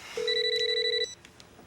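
A telephone rings once in a single steady electronic tone, fairly loud and close, then stops into a quiet room.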